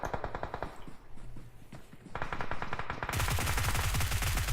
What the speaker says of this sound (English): And that's Fuego putting some shots down, cooking up a nade.